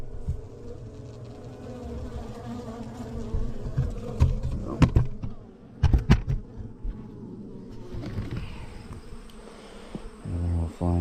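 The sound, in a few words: honeybees flying at log hive entrance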